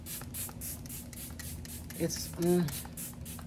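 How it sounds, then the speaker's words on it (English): Short misting bursts from a Dalba spray bottle of Revolution Pro Sport Fix setting spray, close and soft, with a brief spoken word and a small clatter near the end. "the spray that's in here is the Revolution Pro Sport Fix setting spray"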